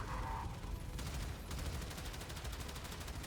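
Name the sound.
gunfire in the video game Warframe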